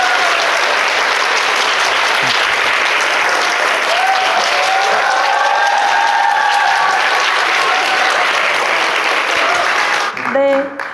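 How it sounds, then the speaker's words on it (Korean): An audience applauds to welcome an author at a book talk: loud, dense, sustained clapping from a large crowd that holds steady for about ten seconds and then tapers off. "작가님 한번 모시겠습니다. 박수 부탁드릴게요."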